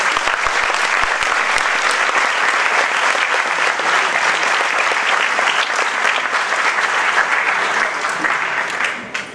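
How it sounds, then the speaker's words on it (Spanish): A hall audience claps for Fabio Bedoya, who led the construction works, in dense, sustained applause that fills the whole stretch and tapers off at the very end. "le pedimos un fuerte aplauso para él"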